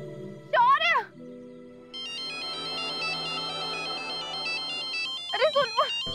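A phone ringtone plays a repeating melodic tune through a speaker, with short bursts of talk before and after it.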